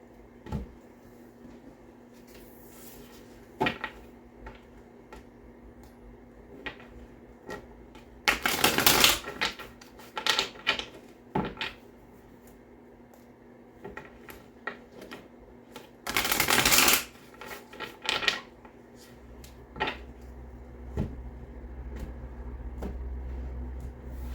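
Tarot cards are shuffled in quick riffling bursts, mostly two long rustling runs, with scattered taps and handling noises in between and no voice.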